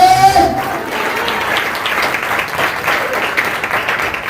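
A church congregation at a Sunday service bursts into loud, sustained applause that fills the room after a brief raised voice at the very start.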